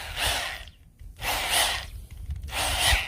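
A garden weasel cultivator scrapes and churns through garden soil in three rhythmic, close passes, each a rough grinding rasp separated by short pauses.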